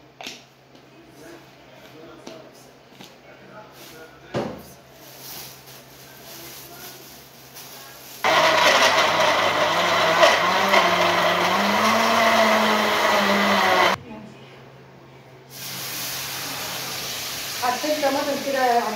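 An electric blender minces a seasoned mixture for a fish and rice dish, starting abruptly with a loud, steady whirring roar that runs for several seconds, cuts off, then briefly restarts. Someone talks before the motor kicks in.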